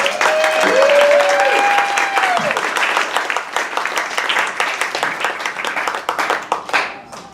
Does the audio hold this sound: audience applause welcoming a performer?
yes